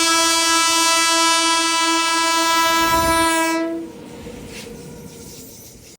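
The Puri to Tirupati Express sounds a long, loud, steady horn blast at Brahmapur station, which cuts off after about four seconds into a low rumbling background.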